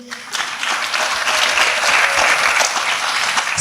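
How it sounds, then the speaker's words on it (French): An audience applauds two singers after a Christmas performance, warm sustained clapping that swells in quickly and holds loud and full throughout. "que je vous prie d'applaudir"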